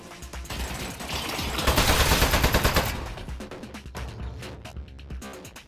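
A turret in Aperture Desk Job lets loose rapid automatic gunfire, a loud close rattle of dense shots building to a heavy burst around the middle, then continuing as sharper separated bangs until the end.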